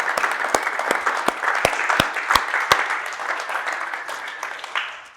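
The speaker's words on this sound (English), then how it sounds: "Let's give ourselves a round of applause." Company team meeting fills with group applause, a busy patter of many hands with several sharp, loud nearby claps standing out in a steady rhythm before the sound tapers off.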